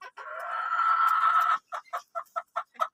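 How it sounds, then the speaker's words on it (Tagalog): Four-month-old Shamu Asil chickens call nearby, starting with one long drawn-out squawk, then a run of short, evenly spaced clucks. "itong mga pulit nito ay mga Shamu Asil"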